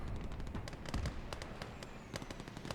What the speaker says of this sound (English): Got quite a grenade war going on here.